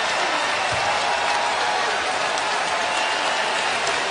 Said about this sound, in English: As Lou Williams exits the ball game, the crowd stands in appreciation.